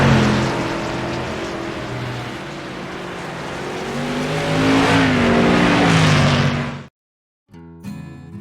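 Modified race cars roar past on the final lap at Nashville Fairgrounds Speedway, a loud sustained engine drone with rising revs as they sweep through turn four. The sound then cuts out abruptly, and a brief faint burst follows.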